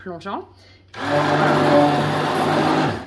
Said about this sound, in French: je vais mixer la pâte jusqu'à ce qu'il n'y ait plus de grumeaux